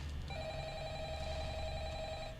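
Electronic telephone ringing in the Five Nights at Freddy's horror video game, a steady sustained warbling ring that starts just after the opening and continues unbroken, fairly loud over a low background hum.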